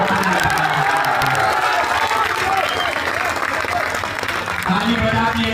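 A large crowd at an outdoor political rally in Bihar claps and cheers steadily throughout, dense sustained applause with shouts and whoops mixed in, close and loud.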